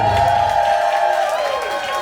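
A crowd at a ball or vogue night cheers and whoops loudly for the judges, a sustained dense roar of voices with shouting on top throughout.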